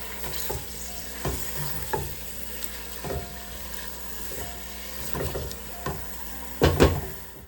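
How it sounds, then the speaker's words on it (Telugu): Curry leaves stirred into frying chicken for pulao, a low sizzle under regular spatula scrapes against the pot, with a heavier knock near the end. "కరివేపాకు వేసుకొని ఒక్కసారి కలిపేసుకోవాలి"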